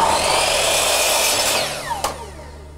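A power tool cuts through a piece of timber with a loud, continuous whine that winds down and stops near the end of the cut.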